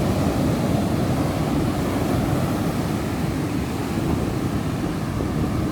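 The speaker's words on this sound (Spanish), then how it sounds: "con los sonidos ahí de las olas ahí" Ocean waves break on a beach in El Salvador, a loud, steady roar of surf that fills the whole stretch without pause, heard alone with no voices.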